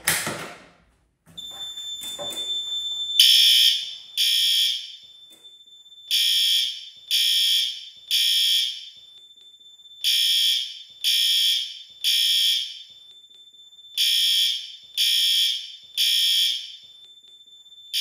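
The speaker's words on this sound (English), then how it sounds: "let's dig into these new LED horn strobes." System Sensor L-Series LED horn strobes on a fire alarm demo panel blare in loud, evenly spaced bursts, a steady temporal pattern of three-pulse groups of harsh piercing horn tones, close and without speech.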